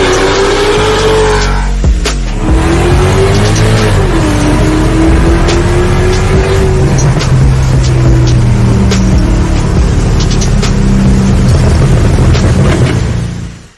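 A supercharged Mercedes-Benz E55 AMG W211 Kompressor engine revs hard on a dyno stand, a loud sustained roar whose pitch climbs through the gears with a sharp bang early on, then winds down at the end.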